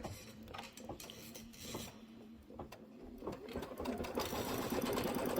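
A sewing machine stitches a tack-down on a Kimberbell quilt block with a steady rapid mechanical chatter. It runs continuously, close and clear, and grows slightly louder toward the end.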